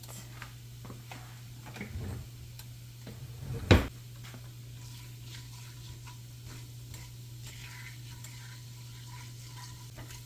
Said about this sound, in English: So the jeera starting to fry up a little bit.